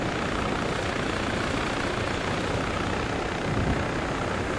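An Arma 3 helicopter gives a steady, dense rotor and engine roar, loud and unbroken throughout with no pauses, as if heard from inside or right beside the aircraft.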